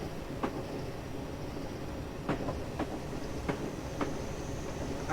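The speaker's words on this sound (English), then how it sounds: "We're nearly out the platform." A long British Rail train pulls slowly out of the platform on the Woodhead Line, a steady rumble broken by a series of spaced clickety-clack wheel knocks over rail joints, moderately loud and without voices.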